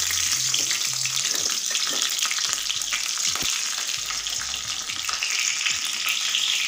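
Green chillies sizzle and fry in a hot pan as part of a home-cooked meal, a steady loud crackling hiss that runs throughout with small spatters and stirring scrapes, with no talking.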